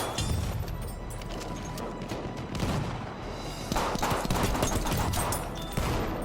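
Rapid pistol fire in the Battlefield 1 video game, a loud dense string of sharp shots and crashing impacts going on for several seconds without talk.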